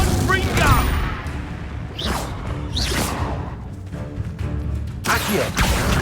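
Confringo fire-blast spells from the Hogwarts Legacy game burst in loud whooshing explosions, several in a row over a constant rumbling battle background, with voices speaking over the action.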